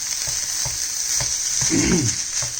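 Fried rice sizzles loudly and continuously in a pan with hot sauce cooking off its moisture, a bright steady hiss broken by soft rhythmic scrapes and taps of stirring, with no voices.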